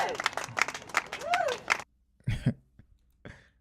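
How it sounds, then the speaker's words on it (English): Audience clapping at a live fitness and video-editing stream: a dense burst of applause with cheering voices for almost two seconds, then a near-silent pause broken by a few isolated claps and coughs. "Clap for yourselves, yo."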